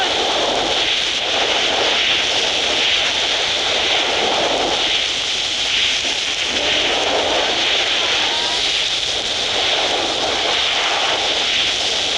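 An aircraft flies in PUBG, its steady loud engine drone and broad whooshing roar running unbroken throughout.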